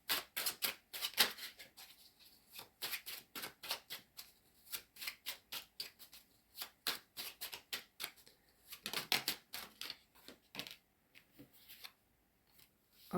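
Tarot cards being drawn and handled from a deck, giving many short, dry flicks and slaps in irregular bursts with brief pauses, close and fairly quiet, no voices.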